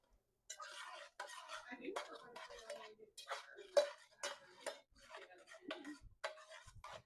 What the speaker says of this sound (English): Go ahead and mix them all in.